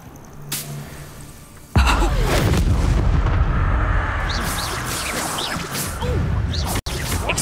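Hogwarts Legacy's Bombarda spell goes off with a sudden heavy blast, followed by a long rumbling, crackling tail of debris and a brief cutout near the end.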